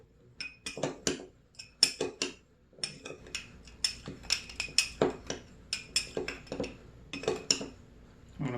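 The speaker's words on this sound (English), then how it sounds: "Mix it really well" Borax and sugar stirred together for homemade ant killer, a utensil clinking sharply against a hard container in a quick irregular series of close taps, with no talking.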